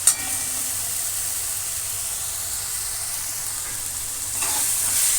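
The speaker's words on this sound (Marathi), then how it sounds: "हे पहा, आपलं वाटणही चांगलं भाजलेलं आहे। पाहू शकता तुम्ही, तेलही सुटू लागलेलं आहे।" Ground masala paste sizzles and roasts in hot oil in a pan for soya bean pulao, giving a steady, close, continuous frying hiss with no voices.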